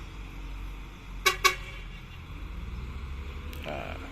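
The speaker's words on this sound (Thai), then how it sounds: "ปิดแตรสองทีนะครับให้รถบดเข้าได้เลยนะครับ" Two short, loud honks from a vehicle horn in quick succession over a low engine rumble at an asphalt road-paving site, with a fainter horn-like sound later.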